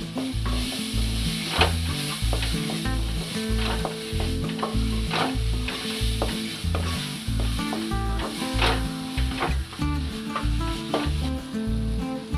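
Curry leaves sizzle and crackle steadily in a hot pan for raw mango rice, with faint stirring scrapes throughout and no voices.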